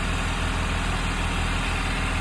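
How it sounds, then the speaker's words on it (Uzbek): A Kia refrigerated truck's engine runs steadily at idle, heard close and loud as an even low rumble with a regular pulsing throb. "motorini ishlashi tashqi tarafdan qaraganda juda ham yaxshi holatda ishlab turibdi"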